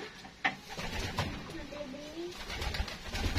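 Soft pigeon coos rise and fall close by at a pigeon breeding loft, with rustling and background voices mixed in.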